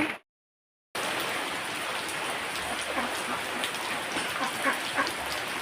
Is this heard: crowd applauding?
no